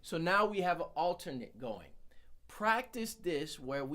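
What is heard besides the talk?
No everyday noise stands out behind the speech.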